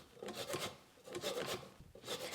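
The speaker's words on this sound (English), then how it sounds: "I'm going to zest just one of the lemons into that bowl" A lemon is zested into a mixing bowl with quick rasping strokes, several scratchy rubs in uneven rhythm, close and fairly soft with brief pauses between passes.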